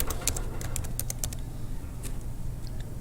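Clicks of typing on a computer keyboard, with a burst of keystrokes early on, then sparser taps over a steady low hum, close and moderately loud.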